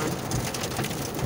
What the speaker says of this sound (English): it's little pieces of hail